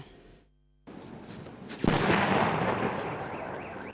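A powerful distant blast from a controlled detonation of unexploded ordnance during demining in Ukraine erupts after a brief silence, then a long rolling rumble and roar slowly fading, heard from afar in open air.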